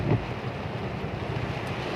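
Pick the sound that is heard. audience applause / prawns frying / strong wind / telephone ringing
strong wind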